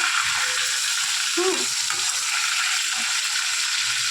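Rohu fish pieces frying in oil in a pan: a loud, continuous hissing sizzle close by, with a brief muffled clatter partway through and no talk.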